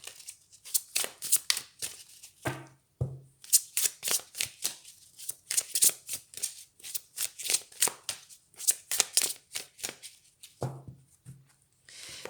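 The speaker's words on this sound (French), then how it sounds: "je prends une dernière carte" Tarot cards are shuffled and drawn by hand, a close run of quick crisp riffles and slides with short pauses and a couple of soft taps between bursts, no voices.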